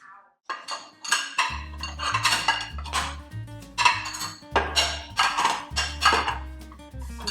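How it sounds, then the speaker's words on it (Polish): Dishes, pots and cutlery are taken out of a home dishwasher in the morning, with close, repeated clinks and clatters of ceramic and metal in an uneven rhythm and nobody talking. "rano wyjmujemy zmywanie, które zrobiło się wieczorem"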